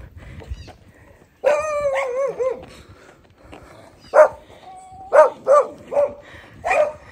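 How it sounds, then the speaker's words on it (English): Several dogs along a lane in Barbados bark and yelp nearby, starting with a burst of excited barking and whining, then a run of separate sharp barks spaced a second or so apart. "Why these dogs?"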